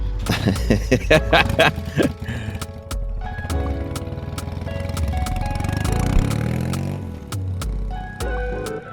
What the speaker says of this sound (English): Oh, there's a loud motorcycle.